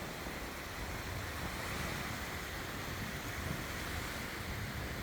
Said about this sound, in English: Got a little chop on the water.